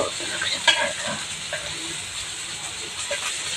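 Ragi uttapam fries in butter on a pan at home, giving a steady close sizzle with soft crackles and a few sharper pops, with no voices over it.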